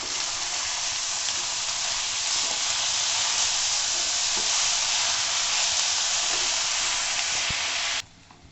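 Fresh fenugreek leaves and potato cook Sindhi style in a hot pan, making a loud, even sizzle close up with faint scraping ticks. The sizzle runs for about eight seconds, then cuts off abruptly.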